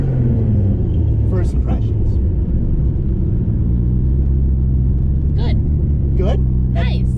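A Nissan GT-R accelerates hard in first gear, its engine giving a heavy, steady interior rumble while a person speaks briefly over it.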